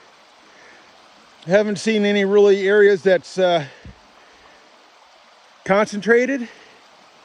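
A small stream flows over big boulders and cobbles, a soft steady rush under a voice, which speaks in two bursts.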